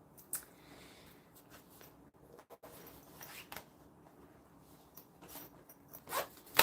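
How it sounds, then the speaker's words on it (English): A zipper is pulled in short scratchy bursts during sewing. The rasps are quiet and close, with a few soft fabric handling sounds between them and a louder zip near the end. "Just line my zipper all the way across"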